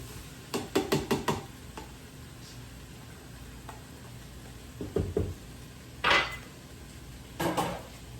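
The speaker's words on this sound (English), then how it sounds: "Okay, now I'm going to add the cubed tofu." Cubed tofu is stirred in a pan of toasted spices: a quick run of wooden knocks and scrapes against cookware, then a pause, then a few more scattered clatters over a quiet kitchen hiss.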